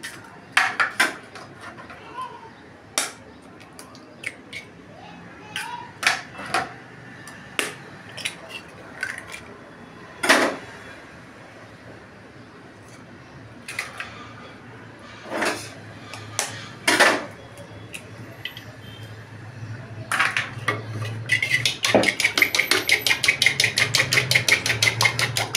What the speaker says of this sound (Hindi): सबसे पहले हम इसमें अंडा फेंटेंगे मालपुए के लिए